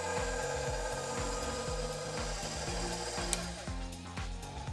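A stand mixer with a whisk attachment beats flour, olive oil and salt, giving a steady motor whir with a rhythmic, repeating low thumping as the whisk turns through the mix, close and continuous.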